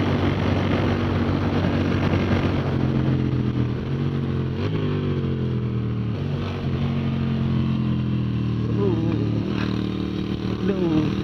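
A motorcycle races around Anglesey International Circuit, its engine note dropping as it shifts down a gear, loud and steady throughout with pitch changes at each shift.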